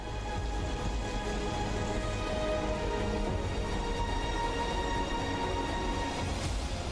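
Steady, dense torrential rainfall in Junagadh, Gujarat, hisses continuously throughout, a constant wash of drops with no voices.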